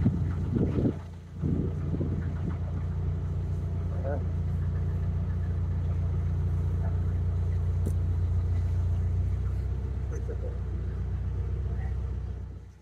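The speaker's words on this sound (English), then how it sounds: "you've got to keep the engine running just in case you need to, you know, use the power to control the boat somewhere" A canal boat's engine runs steadily while the boat sits in a lock, a low continuous rumble that carries through the whole stretch under some wind buffeting, with a brief disturbance near the start.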